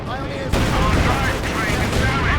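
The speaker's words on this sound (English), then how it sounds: "Anti-tanker firing on us! And a quick light artillery barrels right here on the defensive position via the small choke point." Anti-tank gun and light artillery fire in the Company of Heroes 2 video game, a dense run of booming shots beginning abruptly and rolling continuously, loud and close, with a voice faintly audible underneath.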